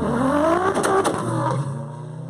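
An Audi S2 race car from the Paintbox Racing Team accelerates hard at a drag race, a loud, near engine roar with rising gear tones that drops off after a couple of seconds.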